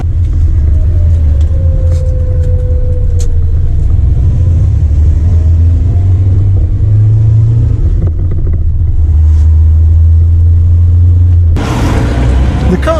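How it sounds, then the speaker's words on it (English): A Toyota Celica ST 1600 drives along with a steady low engine rumble and road noise heard from inside the cabin, the tone shifting slightly as it changes speed, with a louder burst of noise near the end. "the car is wonderful to drive"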